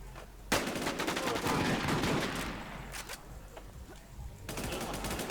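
Video game gunfire comes in long, rapid automatic bursts with dense repeated shots, breaking off briefly and then resuming, with faint excited talk underneath.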